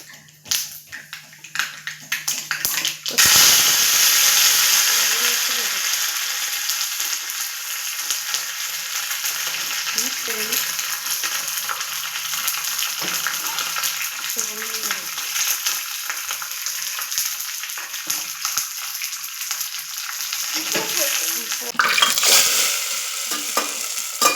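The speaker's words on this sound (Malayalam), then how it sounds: "അങ്ങനെ നമ്മൾ താളിക്കാൻ വേണ്ടി കടുക് പൊട്ടിക്കുകയാണ്" Mustard seeds for tempering hit hot oil with a sudden loud sizzle after a few quiet seconds, then keep crackling and spluttering steadily close by, swelling again near the end.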